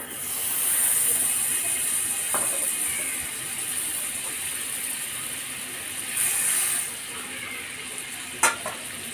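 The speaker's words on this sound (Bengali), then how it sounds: "আমি আরেকটা ফ্রাই প্যানে এই যে কিউব করে রাখা পেঁয়াজ আর টমেটোগুলো বাটারে ভেজে নেব" Cubed onions and tomatoes frying in butter in a pan, a steady bright sizzle that swells and fades, with a few brief clinks of stirring near the end.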